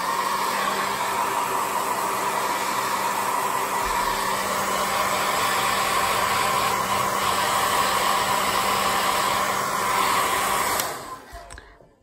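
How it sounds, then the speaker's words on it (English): A handheld hair dryer blows steadily on a craft napkin for about eleven seconds, a loud continuous whooshing roar with no talk, then it switches off and the sound dies away. "I take my hair dryer and blow dry it"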